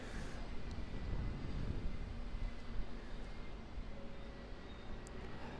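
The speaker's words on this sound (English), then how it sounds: "We've got our Airbus A330 QF 119 from Brisbane just on a final approach." An Airbus A330, Qantas flight QF 119 from Brisbane, on final approach at Auckland Airport, heard as a faint, steady broadband jet roar holding at an even level throughout, distant and unbroken.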